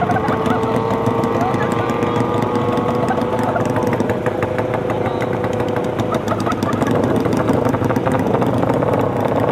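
A Yamaha Jupiter MX300 motorcycle engine drones loudly and steadily on the road with a rising whine, someone speaking over it throughout.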